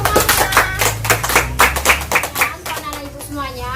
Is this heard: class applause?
yes